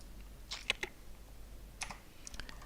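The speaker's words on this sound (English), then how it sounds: "So I'm going to be typing that in." Typing on a computer keyboard: a few faint, scattered keystroke clicks in small bursts with pauses between, in an otherwise quiet room.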